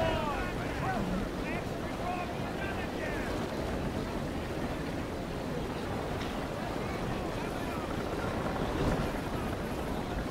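Sailing warship tacking during a naval battle in the game Naval Action, with steady wind and water wash, creaking sails and sea noise filling the scene while players talk over it.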